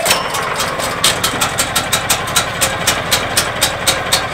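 A 220v portable generator engine for a coffee truck runs after a pull start, chugging loudly up close with a steady, regular pulsing beat and no talking.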